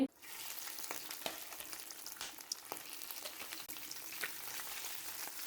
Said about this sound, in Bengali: এখন আমি আলু আর চিংড়ি মাছ ভেজে নেব